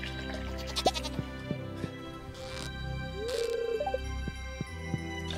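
A goat in the Stardew Valley farming game gives a couple of short bleats amid cheerful background game music and small interface sounds, clear and close.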